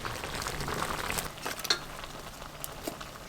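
Sugar syrup boiling down in a pan while being stirred, a continuous gentle sizzle and bubbling with occasional scraping ticks, close and fairly quiet without talk.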